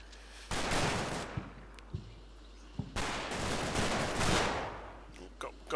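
Rifle and machine-gun fire from infantry combat in Combat Mission: Battle for Normandy, loud dense bursts of rattling gunfire in two long volleys with scattered single shots between them.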